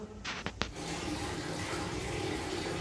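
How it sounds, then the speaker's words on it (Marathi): Water runs steadily from a tap in a bathroom while someone bathes, a continuous close rushing with a few brief splashes near the start. "पाण्याचा आवाज येतो."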